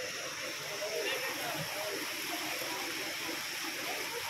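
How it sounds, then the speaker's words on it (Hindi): Steady broadband rush of water flowing along a canal in Lahore fills the clip, constant and fairly close, with a faint murmur of voices underneath. "शोर पानी का चेक करें, पानी की आवाज़।"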